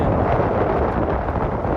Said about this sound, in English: There's 17, 20 knots of wind.